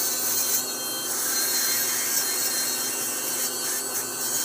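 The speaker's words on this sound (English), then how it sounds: "finishing or shining, we use this metal polish with a brush" A brush runs steadily against a fixed metal orthodontic appliance while it is polished with metal polish, making a continuous, even whirring abrasion with no breaks.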